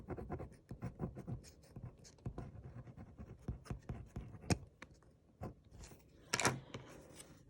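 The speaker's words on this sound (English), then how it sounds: "I wrote family on my leaf here" A pen writes on a paper leaf, making close, dry scratching strokes in quick irregular bursts with short pauses between words.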